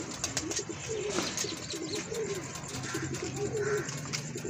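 Lakha pigeons coo repeatedly at a loft, a steady run of soft, throaty calls over a busy background of other bird chatter, with no talk.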